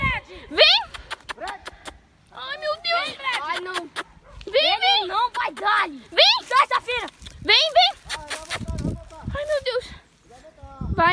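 A dog at a riverbank barks and whimpers in repeated yelps and whines, mixed with loud, frantic human shouting throughout.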